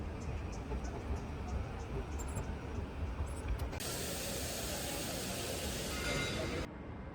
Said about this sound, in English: The train is arriving